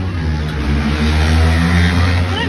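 A Kawasaki Ninja H2 motorcycle engine runs loud and close, holding a steady rev with a strong harmonic drone throughout.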